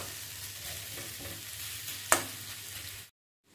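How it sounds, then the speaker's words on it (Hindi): Capsicum is stirred into pumpkin and potato frying in a pan, a steady close sizzle with one sharp utensil clink before the sound cuts off. "पर अभी हम कैप्सिकम को मिला रहे हैं।"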